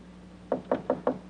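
Four evenly spaced knocks rap on a wooden door at close range, sharp and distinct against a quiet background, in a 1940 British wartime setting.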